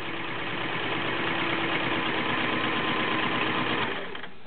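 A vintage Kenmore 1660 flat-bed convertible sewing machine, serviced, sews a straight stitch with a fast, even, rattling chatter up close. The sound is steady and continuous, then slows and fades slightly at the end, with no voices.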